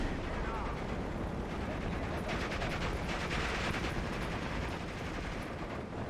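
Rapid bursts of Maxim machine gun fire in the World War II strategy game Steel Division 2, mixed with distant battle rumble and denser rattling volleys in the middle, steady and moderately loud.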